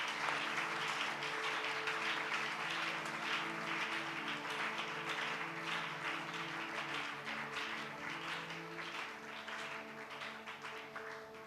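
A church congregation applauds during a night worship service: dense, continuous clapping from many hands, with sustained musical tones underneath, easing slightly toward the end.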